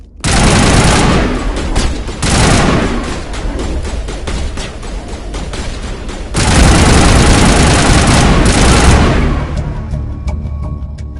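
Heavy automatic gunfire erupts in the video game Mass Effect, dense bursts of shots filling most of the stretch, loud and close with a brief lull in between.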